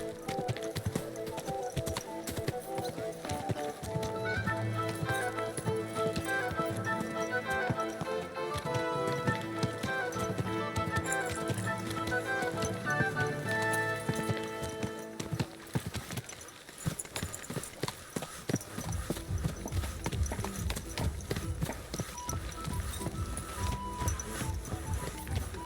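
Horse hooves clip-clop steadily in the video game Kingdom Come: Deliverance II, a continuous rhythmic plodding beneath game music that fades out midway, with the hoofbeats carrying on alone toward the end.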